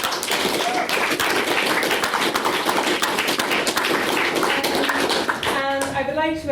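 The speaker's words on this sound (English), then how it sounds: "And can we get another round of applause for Rachel's interview?" An audience at a formal debate breaks into a steady round of applause, dense clapping held at an even level for several seconds before it thins out near the end.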